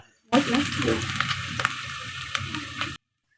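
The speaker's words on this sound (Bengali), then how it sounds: "এর মধ্যে তেজপাতা দারুচিনি এবং এলাচি দিয়ে দিব তারপর এটা একটু ভেজে নিব" Chopped onion, bay leaf, cinnamon and cardamom sizzle and fry in hot mustard oil, a loud, steady crackling hiss with a few sharper pops, heard alone.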